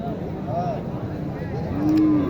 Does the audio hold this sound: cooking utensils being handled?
no